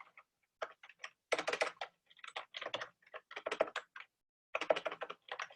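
Someone types a command on a computer keyboard, a close, steady run of crisp key clicks in quick bursts with short pauses between them, with no talking.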